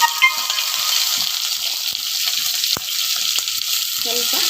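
Curry leaves and green chillies sautéing in a little oil, a close, bright continuous sizzle with occasional light clicks of a spoon against the pan.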